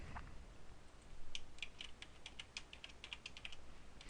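Keys on a computer keyboard are tapped quickly and lightly while a password is typed, a faint patter of clicks over quiet room noise.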